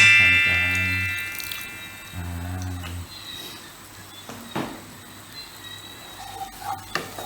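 Water is splashed into a hot pan of frying fish, giving a burst of sizzling and bubbling, then softer crackle and a few clinks as cooking continues with no talking.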